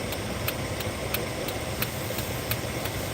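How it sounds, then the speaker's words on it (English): Big Ram pickup truck with a bad exhaust rumbles in a low, rough drone, with faint regular ticking pulses riding over the steady engine noise, heard alone without talk. "There's our big ram with the bad exhaust, you guys hear"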